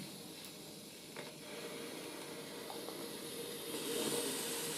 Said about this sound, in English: It just basically empties itself of water and steam.